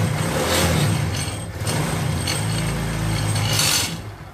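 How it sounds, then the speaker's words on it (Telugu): A loose, unfitted side engine cover on a running Honda motorcycle rattles and clinks against a steady close engine drone, the metallic chatter continuing before cutting off near the end. "ఇక్కడ సైడ్ అయితే కవర్ సౌండ్ వస్తుంది, ఫిట్ చేయలేదు కాబట్టి కవర్ సౌండ్ వస్తుంది"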